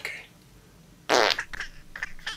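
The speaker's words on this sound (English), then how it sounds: "Stop farting." A single loud, wet fart from Junior, the puppet character, lying in bed in a darkened bedroom. It bursts out suddenly after a quiet stretch, followed by fainter rustling sounds.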